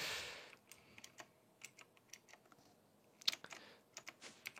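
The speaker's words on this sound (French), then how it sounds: "J'ai eu un nouveau clavier, d'ailleurs j'espère qu'il s'entend pas de trop. Parce qu'il est un peu plus bruyant que l'autre." Rapid clacking keystrokes on a new, fairly noisy computer keyboard, an uneven run of close, crisp taps with a brief louder burst, no voices.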